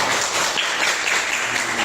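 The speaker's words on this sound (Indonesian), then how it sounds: "boleh tepuk tangan dulu buat teman kalian" Classroom applause for classmates, a short burst of dense, steady clapping from a group of students, close and fairly loud throughout.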